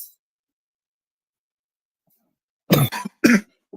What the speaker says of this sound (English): I just had a little cough.